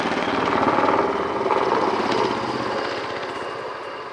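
A German Air Force NH90 helicopter flies a steep display turn at an air show, its rotor and turbine drone loud and steady with a rapid blade chop that fades slightly toward the end.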